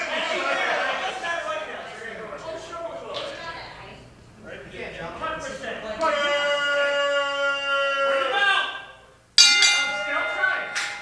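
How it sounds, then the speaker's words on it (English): Opening bell for a wrestling main event at a CZW Dojo Wars show, ringing several bright metallic strikes in the latter half amid crowd noise and talk. "We have the opening bell for our main event here"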